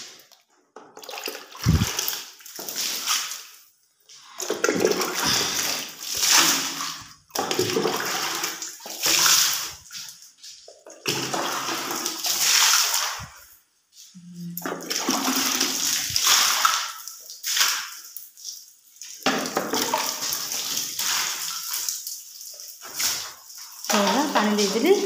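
Water is poured and splashed over concrete kitchen slabs in repeated bursts of gushing and spattering. The bursts are close and loud, with short pauses between them.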